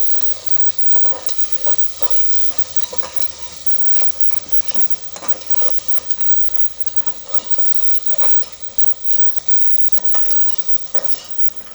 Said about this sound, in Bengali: সুন্দর করে কষাই চলছে